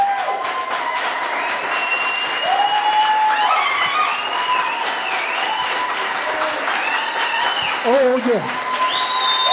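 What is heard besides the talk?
standing ovation applause at memorial service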